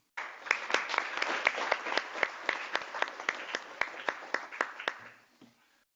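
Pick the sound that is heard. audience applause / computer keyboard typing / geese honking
audience applause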